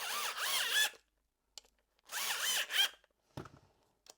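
A power drill tightens bolts on a locking shim in two whirring bursts about a second long, each rising slightly in pitch, then a few faint clicks and handling knocks.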